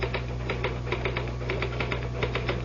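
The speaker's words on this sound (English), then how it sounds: "Just hit the typewriter, Harry." Typewriter keys clatter in a quick, steady run of sharp strikes, close and fairly loud over a constant low hum, as a sound effect in a CBS Radio Mystery Theater drama.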